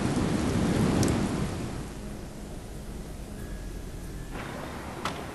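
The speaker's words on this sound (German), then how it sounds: "Ich mag Regen. Vorhin hat es auch gestürmt." Steady rain pours in a thunderstorm in the point-and-click game The Moment of Silence, with a low rumble of thunder swelling early and then fading beneath the constant hiss of rainfall.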